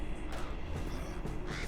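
Crows cawing in the Old Forest of the fantasy game LOTRO, a few harsh caws repeating in a loose rhythm at moderate volume over quiet background ambience.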